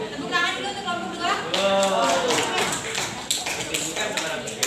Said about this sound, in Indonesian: Tepuk tangan dulu untuk kelompok dua.